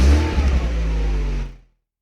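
A Brabus-tuned Mercedes SLK's aftermarket exhaust revs loudly up close, a deep, throaty engine roar holding steady before cutting off abruptly into silence.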